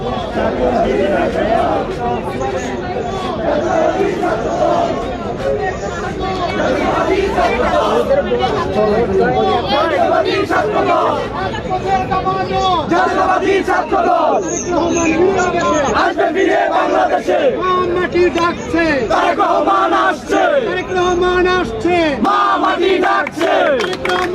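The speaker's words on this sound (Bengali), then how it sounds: "আপনারা দেখতে পাচ্ছেন এখানে স্লোগান দিচ্ছেন বাংলাদেশ জাতীয়তাবাদী দল বিএনপির যারা রয়েছেন" BNP student activists chanting political slogans at Shahbag, a loud massed crowd shouting rhythmic call-and-response chants continuously, with chatter mixed into the throng.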